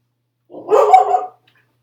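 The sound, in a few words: dog barking in the background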